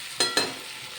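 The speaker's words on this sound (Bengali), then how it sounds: "এবার ডাঁটা দিয়ে দিলাম, ভালো করে নেড়ে চেড়ে নিচ্ছি।" Drumsticks are stirred and fried in a pan: two quick scraping stirs over a soft background sizzle.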